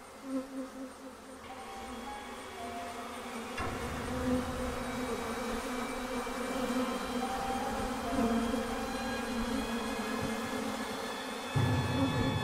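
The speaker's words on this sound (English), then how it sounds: "Bees." A swarm of bees buzzing inside an office building, a dense steady drone that swells and holds for about twelve seconds, fairly faint, with no talking.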